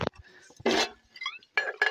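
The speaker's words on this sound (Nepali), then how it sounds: "यहाँ चाहिँ हामीले भाँडा धोएर ट्याक्क पार्दैछौँ अब" Dishes being washed after a family ritual feast, with a few separate clinks and clatters of pots and plates in short bursts between quiet gaps, close and fairly loud, without talking.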